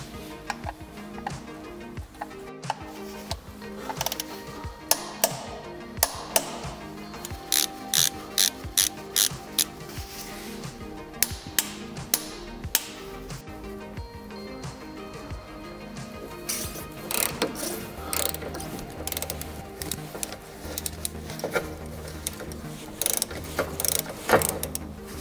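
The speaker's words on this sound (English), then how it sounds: "After all the oil has drained, we now put back in the drain plug screws. We tighten those with 43 Newton meters." A ratchet wrench tightens the drain plug screws on a Getrag automatic gearbox, quick bursts of sharp clicking repeated throughout at close range, with some quieter handling noise between them.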